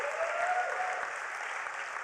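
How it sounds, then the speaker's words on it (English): An audience at an awards ceremony at the United Nations gives a round of applause, a brief, even wash of many hands clapping, somewhat distant. "let's give those 3 a round of applause"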